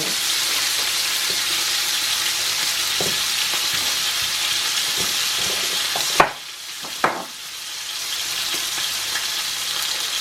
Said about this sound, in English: I'm hoping you can still hear me over the frying.